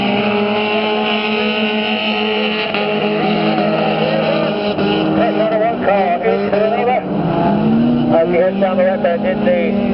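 Saloon cars race on the sand of Vazon Bay, Guernsey, for local championship points, engines droning and revving steadily throughout, with a commentator talking over the continuous motor noise.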